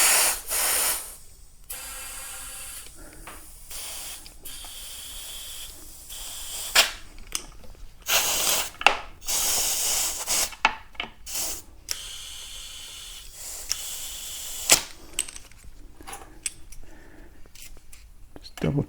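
An air compressor fed through a cheap Harbor Freight inflator fills an electric unicycle tire to about 35 psi, making loud bursts of hissing air with short pauses and sharp clicks.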